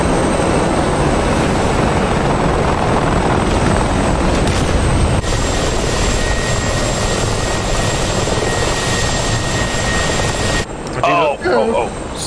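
An attack helicopter flying in the DCS combat flight simulator, its rotor and engine making a loud, constant droning whir throughout, with voices talking over it and a brief radio-like chirp near the end.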